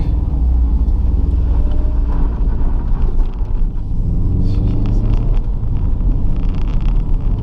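A 1998 Subaru Impreza 22B's engine drones steadily from inside the cabin on a twisting road, with deep rumbling road noise and wind, loud and continuous throughout.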